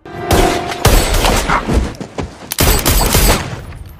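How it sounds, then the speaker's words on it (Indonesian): Gunshots in the 2012 action film Safe: loud, close bursts of firing and booms come in three separate volleys with short pauses between them. "Untungnya Mei menembak kakinya Alex karena dia tahu Luke akan kalah jika melawannya."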